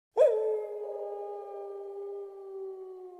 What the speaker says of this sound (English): Once, she heard a wolf in the trees.